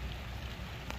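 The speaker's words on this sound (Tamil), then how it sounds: "ரெட்டிக்கிட்டு நல்லா மழை பெஞ்சிட்ருக்கு." Heavy rain falls in a dense, continuous hiss during a downpour, faint and steady throughout with no voices.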